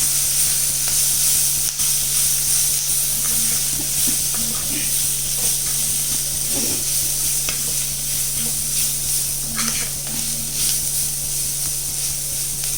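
Spice powders of pepper, garam masala, chili flakes and oregano sizzle steadily in a pan for fried chicken rice, with a spoon stirring and scraping through them, close and continuous with no talk.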